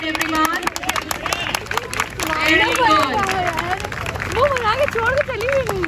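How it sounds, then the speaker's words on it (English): A crowd applauds children at a school sports day, with scattered, uneven clapping running throughout under loud, close talking and cheering voices. "Huge round of applause for each and every one."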